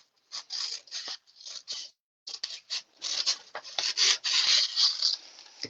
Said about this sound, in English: I'm just going to trim this across so it's the same width